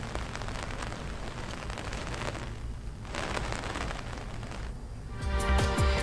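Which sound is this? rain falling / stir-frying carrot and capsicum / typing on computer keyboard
rain falling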